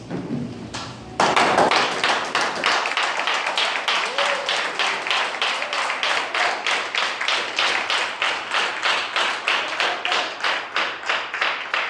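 A church congregation claps in a steady, even rhythm, dozens of sharp claps in a row that keep going without a break.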